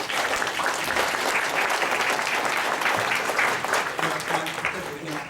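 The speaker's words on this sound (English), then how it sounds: "let's give them a clap all together" An audience claps together at a youth awards ceremony, steady dense applause filling the room throughout, with a voice faintly talking underneath.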